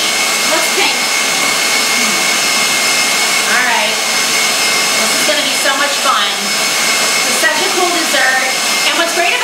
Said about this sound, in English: when you have a mixer like this that does everything for you